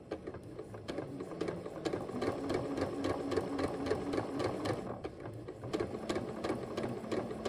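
A sewing machine stitches a shoulder dart at close range, its rapid mechanical whir and needle clatter running continuously without pause.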